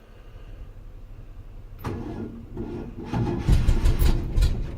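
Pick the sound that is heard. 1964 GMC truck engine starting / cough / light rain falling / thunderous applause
1964 GMC truck engine starting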